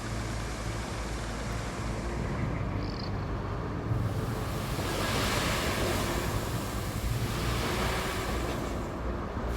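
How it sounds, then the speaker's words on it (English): Sand pours steadily in the Roadcraft game, a broad continuous rushing hiss like surf that swells slightly midway and runs unbroken throughout. "We're going to be pouring a ton of sand."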